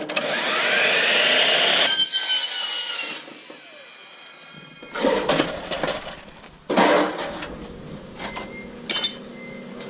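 Mitre saw slicing through a metal eavestrough, a loud whining cut lasting a few seconds, followed by shorter bursts of cutting and metallic clanks and rattles as the piece is handled.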